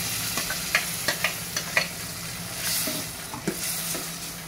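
Vegetables for munakaya (drumstick) sambar frying in a pan at home, a steady low sizzle broken by repeated stirring scrapes and light clinks, close and fairly quiet with no talk.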